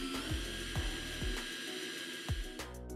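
A Dedra DED7042 cordless 18 V drill-driver runs with a steady motor whine, speed shifting as the variable trigger is squeezed and released, punctuated by several short spin-up and slow-down sweeps close to the listener.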